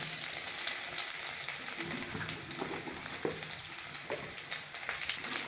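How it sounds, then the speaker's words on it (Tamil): Mustard seeds and urad dal splutter in hot oil for a Tamil green gram curry, a steady dense crackling sizzle with small pops throughout, close and even, without voices. "கடுகு, உளுத்தம் பருப்பு, கடுகு நல்லா பொரிஞ்சு வரட்டும்."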